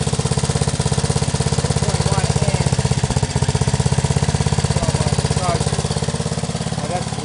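An 8hp lawnmower engine idles on hydrogen from an HHO dry cell. It gives a loud, fast, even chugging pulse that is close and continuous, with slight wavering in the idle.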